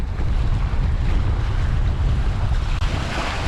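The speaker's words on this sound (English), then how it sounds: "On a rather breezy day." Strong wind buffets the microphone on an exposed, breezy stretch of coast at Whitehead near Belfast Lough, a loud steady roar with surf-like rumble and no talking.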